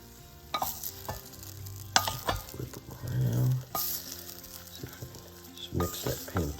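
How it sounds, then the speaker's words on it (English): Roasted vegetables are stirred in a pan with pancetta, close clunks and scrapes of a utensil over a low sizzle, with a voice murmuring briefly between the strokes. "we're going to give these a stir as well"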